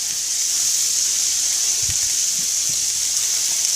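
Onions sizzling in butter in a pan, a steady close hiss with a faint low thump or two beneath, no voices.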